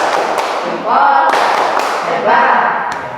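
Classroom of students doing a rhythmic thumbs-up clap, loud bursts of unison claps and taps in a patterned beat, with a teacher's voice calling along.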